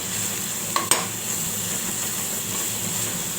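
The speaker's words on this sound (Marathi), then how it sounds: "याला असं चालू ठेवायचं ना तर खाली लागून जाईल" Masala frying with wild monsoon greens and vegetables in an oiled pan gives a steady close sizzle, broken early by two sharp clacks of a spoon stirring against the pan.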